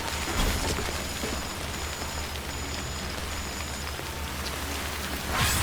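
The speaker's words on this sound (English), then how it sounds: "I don't know if you're going to hear me over the rain." Heavy rain pours steadily in the video game Death Stranding, a dense continuous hiss of drops close around the listener, with faint rumbles underneath and a brief thin tone in the background.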